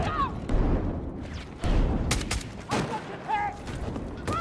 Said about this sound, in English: That's another grenade.